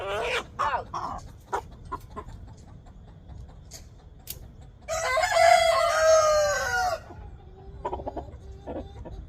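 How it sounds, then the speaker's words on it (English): Roosters crow loudly and close by during a road trip, one long strained crow dominating the middle, with clucks and shorter calls scattered before and after. "That one rooster started pulling his feathers out."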